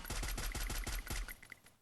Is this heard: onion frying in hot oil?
no